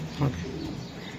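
A single soft pigeon coo rises briefly over a steady background murmur of voices and room noise.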